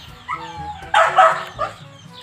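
A dog gives a few short barks and yips, moderately close, with a brief louder burst in the middle and faint voices in the background.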